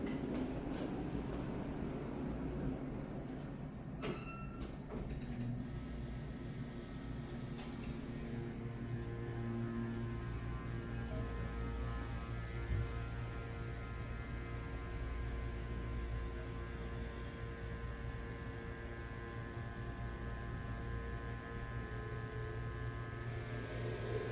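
ThyssenKrupp Endura MRL hydraulic elevator motor running in a Holiday Inn Express & Suites, a steady low droning hum with faint mechanical whine, constant and moderately quiet throughout.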